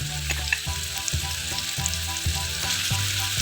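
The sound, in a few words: sautéing blended chili and garlic in a little oil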